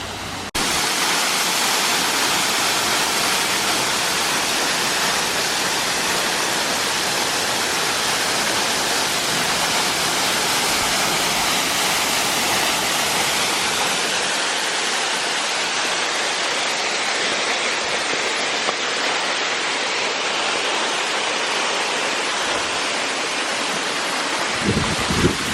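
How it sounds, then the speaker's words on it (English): A waterfall near Mendenhall Glacier in Juneau roars in a dense, steady rush of falling water, loud and close, continuous and unchanging throughout with no voices over it. "is a waterfall"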